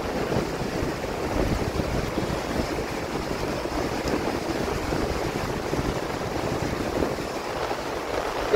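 The Teesta river rushes below a 70-metre bamboo bridge in Dzongu, North Sikkim, a steady dense roar of water mixed with breeze, continuous and fairly loud with no talk.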